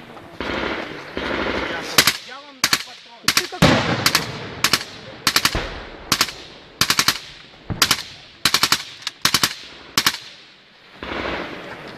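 Small-arms gunfire in a war setting, with repeated sharp bursts and single shots cracking close and loud in an irregular rhythm, amid background noise and occasional voices.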